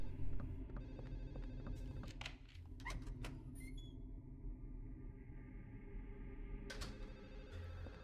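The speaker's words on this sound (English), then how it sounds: "How in the hell am I still hearing this damn phone?" A telephone rings inside a video game, loud electronic ringing with sharp repeated bursts and clicks, then a lingering tone that fades before another burst near the end.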